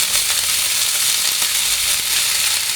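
Spices for a dal tempering hit hot oil and sizzle hard, giving a loud, dense, continuous crackling hiss that holds steady throughout.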